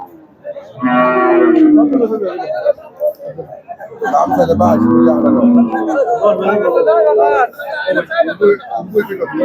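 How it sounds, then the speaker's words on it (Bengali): Cattle, including an Australian cow, low loudly and repeatedly nearby at Hazratpur cattle market, long drawn-out moos rising over a busy market hubbub of voices. "আরেকটি অস্ট্রেলিয়ান গরু"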